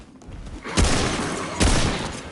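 Two loud gunshot bursts in the video game Remnant 2, spaced under a second apart, each with a heavy booming tail over constant background game noise.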